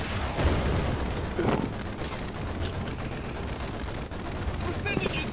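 An M2 Browning machine gun fires in a D-Day video game in dense, continuous bursts of rapid gunfire, with heavy booms mixed in and excited players shouting over the din.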